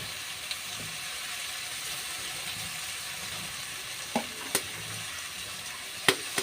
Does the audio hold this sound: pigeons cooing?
no